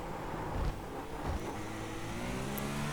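A GTP race car engine in iRacing at Spa-Francorchamps, a continuous loud engine drone with a brief rise in revs and steady throttle, no voices over it.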